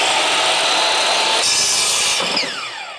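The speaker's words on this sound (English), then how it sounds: "when you're cutting timber using a circular saw" A circular saw cuts through timber for shed floor framing, a loud, close, continuous whine of the blade biting wood that holds for most of the cut, then eases and fades near the end.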